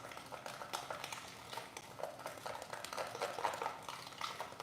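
Hair bleach and developer being stirred together in a mixing bowl, a soft, steady scraping and clinking that runs continuously at close range with no talk over it.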